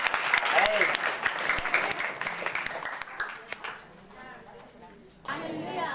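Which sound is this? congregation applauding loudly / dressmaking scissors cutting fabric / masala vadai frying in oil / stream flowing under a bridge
congregation applauding loudly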